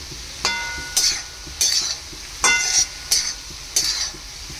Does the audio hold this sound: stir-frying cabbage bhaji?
yes